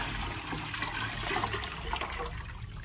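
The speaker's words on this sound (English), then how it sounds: "We need to boil 10 liters, so I'm gonna pour 2 of the 5 liters into the pot." Water poured steadily into a pot while making ginger beer, a continuous splashing gush sounding close and fairly loud for the whole stretch with no voices.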